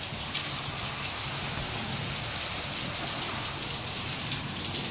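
Heavy rain pours steadily outdoors, a dense continuous hiss of drops hitting surfaces with scattered sharper splashes and a faint low rumble underneath, no voices.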